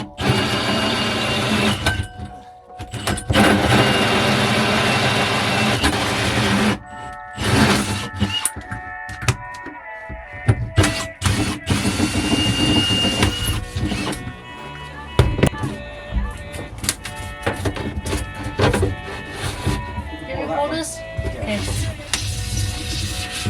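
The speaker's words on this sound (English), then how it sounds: "he's about to drill a hole in the back wall" A drill with a hole saw grinds and whirs through a wall in uneven bursts, with clattering and knocking between runs, close and loud, over a steady machine hum.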